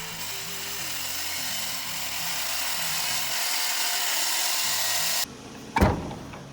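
A power saw grinding steadily through brick, a loud sustained whine with shifting low tones that cuts off abruptly, followed by a short sharp clatter, no voices.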